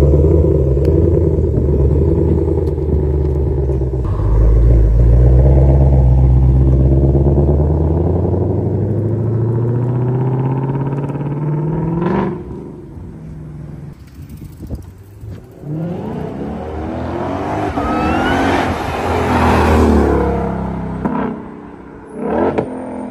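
A turbocharged Audi R8 at a late-night street racing meet, its engine rumbling loudly up close, then revving and surging in waves, with whirring turbo tones and a fading pass toward the end.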